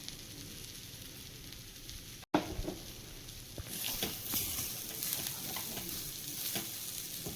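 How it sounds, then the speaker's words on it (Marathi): Pea filling sizzling in a pan while being stirred, a crackling fry with scraping strokes that grows busier after a brief cut, no voices. "आता परत एक वेळा याला व्यवस्थित मिक्स करून घेऊया।"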